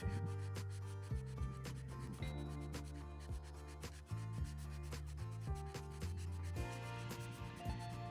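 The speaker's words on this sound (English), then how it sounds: "You're not rubbing the paint away, you're just like keying it in." A hand sanding block rubs over painted surface in steady back-and-forth strokes, a close, rhythmic scratchy scrubbing that keys the paint, with no talking.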